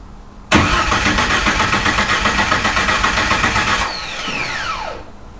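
A Jeep YJ 4.0 engine with almost no exhaust and timing set for propane roars loudly and steadily for several seconds, pulsing with a rough rapid beat, then drops off into a falling whine as it winds down.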